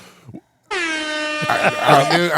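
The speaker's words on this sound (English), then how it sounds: "we do have the hip-hop air horn" A blaring hip-hop air horn sound effect sounds loudly and holds on a podcast, with a voice speaking briefly before it and more talk under its tail.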